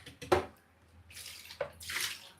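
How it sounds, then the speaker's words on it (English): Water runs from a kitchen tap as a plate is rinsed in a sink during cooking, coming in short bursts of splashing flow with brief pauses between them, close and fairly quiet. "I'll just rinse this plate and I'll be right back"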